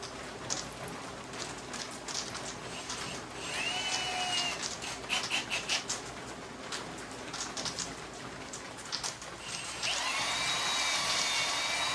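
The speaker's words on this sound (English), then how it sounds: "I have to drill a bigger hole in it" A small power drill whines as it bores into material, pitch shifting under load, with gritty scraping and brief pauses between runs.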